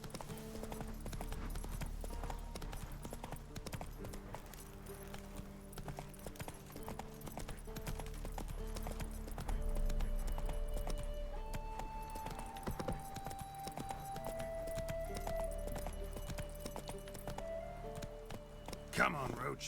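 Roach, a horse in The Witcher 3 video game, clip-clops steadily along a road at a walking pace, each hoof close and clear over a low musical backdrop, with speech heard intermittently.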